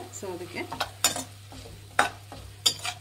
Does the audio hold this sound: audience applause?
no